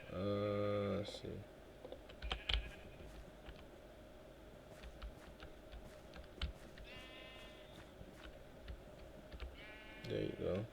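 Sheep bleating in the video game Minecraft, a few short bleats near the start and end, mixed with keyboard typing and mouse clicks under steady talk.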